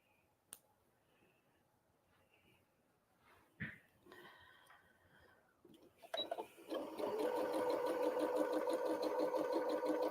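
A sewing machine stitching a quilt block for a barn star pattern starts up after scattered clicks and handling noises, then runs as a steady, fast mechanical whir, close and moderately loud.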